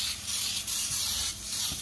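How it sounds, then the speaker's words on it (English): Cooking spray from an aerosol can misted onto the sides of a cake pan, heard as a few short, close hissing bursts with brief pauses between them. "use this little spray and spray it on the sides"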